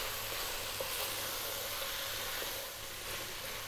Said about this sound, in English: Just 3 minutes, stay on this high heat, stirring pretty much all the time.